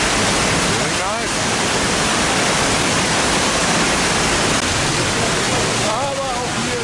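A waterfall on Lombok, Indonesia roars as a loud, constant broadband rush of falling water, close by and unchanging, with a voice speaking briefly over it near the start and again near the end.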